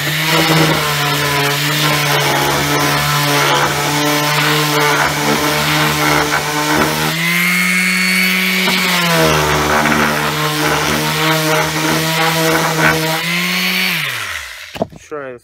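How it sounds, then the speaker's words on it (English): A power tool drones loudly on wood while building a TV stand, its motor pitch holding steady, briefly rising and falling midway, then spinning down and stopping at the end. "This one I think I'll do the sanding on."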